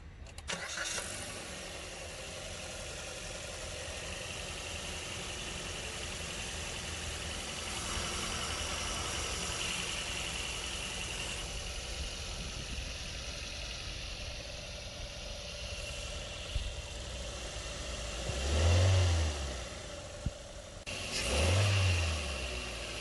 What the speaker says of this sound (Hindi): ये थी K15B पेट्रोल इंजन की साउंड